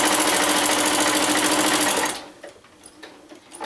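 A sewing machine stitches quilting fabric, running in a fast, steady mechanical rattle up close for about two seconds before stopping, followed by faint handling noises.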